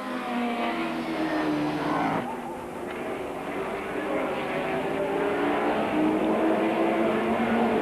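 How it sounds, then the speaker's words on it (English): A powerful General Motors Holden race car engine, in a 1991 Thundersaloon, bellows through a tight hairpin at Mallory Park, its deep roar dropping briefly as it slows, then building again, heard from trackside. "The distinctive bellow of the General Motors Holden engine of the Carlton Thunder Saloon through the tight hairpin"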